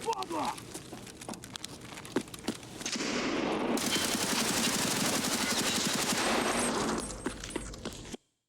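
Sustained machine gun fire in Escape from Tarkov, starting with scattered single shots and then turning into a dense, loud burst of automatic gunfire lasting several seconds before it cuts off.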